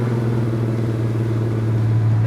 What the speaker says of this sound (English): This car drives really good.